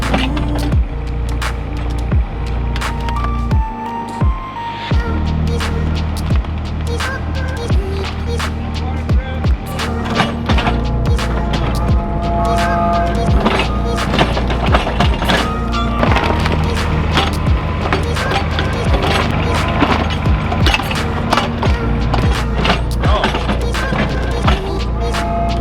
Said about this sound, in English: This is my first time using a mini excavator.